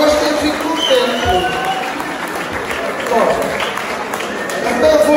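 An audience claps after a joke at an outdoor comedy show during the Vale das Éguas fair in the Algarve. The applause is steady and dense throughout, mixed with crowd murmur and nearby voices.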